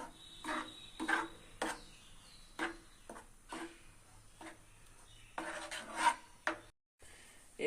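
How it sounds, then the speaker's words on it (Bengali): Potato paste is stirred in a kadai with a spoon, a series of short scraping and rubbing strokes close by, separated by brief pauses, with no talk. "এবার আমি নাড়তে থাকবো।"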